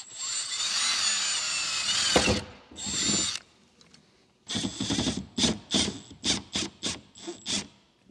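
Power drill boring holes for a JB Products Kickback mud flap install, a long steady whine that stops briefly, then a run of short bursts as the trigger is pulsed.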